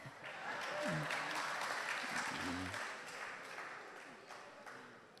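Audience applause at a public assembly in a school hall, a broad wash of clapping that swells early and then slowly fades, with some voices underneath.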